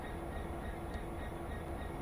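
A diesel passenger train idles at London Paddington in the Train Sim World simulator, a steady low engine rumble with a faint constant whine and no talking.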